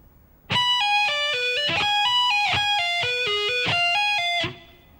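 An electric guitar plays an arpeggio lick at slow tempo, clean sustained notes stepping through pull-offs in a clear, even sequence before ringing out, alone and close.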